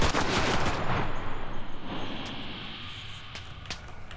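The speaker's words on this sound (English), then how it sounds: "Still getting shot at." Gunfire in the video game Cuisine Royale: a loud burst of rapid shots at the start fades into scattered, more distant single cracks, with an engine-like rumble beneath.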